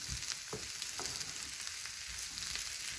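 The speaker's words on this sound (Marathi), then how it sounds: "थोडा वेळ असं छान आपले जे आलू आपण टाकले आहे ते मसाल्यामध्ये परतून घ्यायचे" Potatoes sizzle steadily as they sauté in spice masala for a Maharashtrian bhaji, a close, continuous frying hiss with soft stirring scrapes running throughout.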